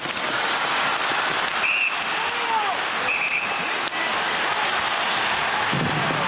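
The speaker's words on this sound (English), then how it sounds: "Take a listen for the whistle as the Wild are trying to stir it up." A referee's short, sharp whistle sounds twice over a loud, constant arena crowd roar at an NHL hockey game, Pittsburgh Penguins vs Minnesota Wild, with a faint sliding skate squeak in between.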